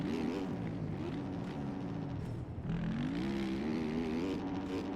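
Motocross bike engine in the MX Bikes game on an eroded track, a steady buzzing drone that dips briefly as the throttle is rolled off and then revs back up, with no talk over it.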